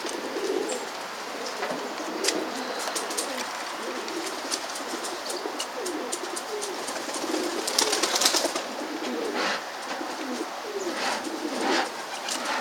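Soft pigeon cooing mixed with scattered chirps and light rustling, steady and fairly close, with no voices.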